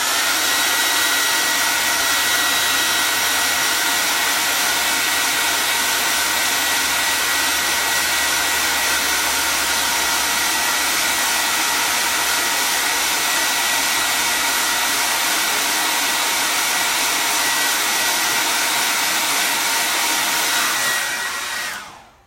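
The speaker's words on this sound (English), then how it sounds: "So let's get my hair dryer plugged in again." A hair dryer blows steadily on a chalk transfer on a St. Patrick's Day shirt, a loud, even whooshing whine that runs unbroken for over twenty seconds before cutting off at the very end.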